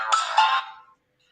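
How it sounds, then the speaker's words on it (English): A mobile phone ringtone sounds as a single short burst of bright, layered tones, fairly loud and close, cutting off abruptly with no voices over it. "Is that your ringtone?"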